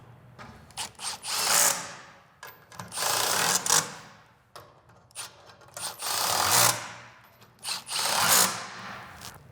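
Bursts of a power tool drive lag screws into a wall mount for a Coxreels air reel in a garage, several loud whirring runs of a second or two each, separated by short pauses, with no talking.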